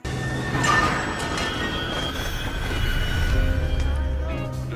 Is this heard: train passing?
yes